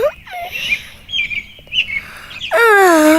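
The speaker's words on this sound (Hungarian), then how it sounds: "Élvezettel hallgatja a madarak énekét." Birds chirp and tweet in short bright bursts, followed by a louder sustained wavering call near the end, fairly close and with no speech.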